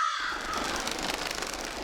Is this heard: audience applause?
no